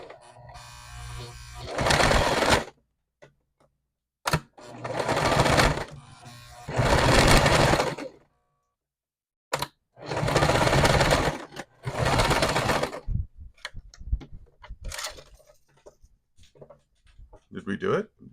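A sewing machine runs in several loud, whirring bursts of a few seconds each, separated by pauses, with people talking quietly in between.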